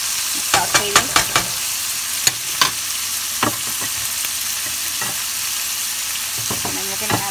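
Tomato, onion and garlic sautéing in oil in a frying pan, a steady sizzle broken by sharp clicks and scrapes of stirring.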